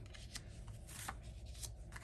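Quick papery shuffles of cut cardstock pieces being restacked by hand, several short crisp flicks over about two seconds, close and fairly quiet.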